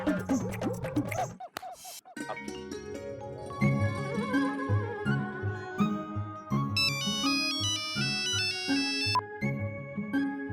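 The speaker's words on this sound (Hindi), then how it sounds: "क्यों बार बार फोन कर रही हो कोयल?" A melodic phone ringtone plays a repeating electronic tune, with a brief muffled voice at the start before the ringing takes over.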